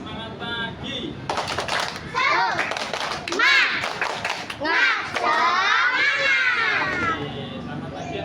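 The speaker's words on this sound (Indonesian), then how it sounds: "Baik, tepuk semangat pagi." A classroom of children performs a rhythmic morning cheer clap, bursts of quick patterned clapping mixed with lively chanting voices, close and fairly loud.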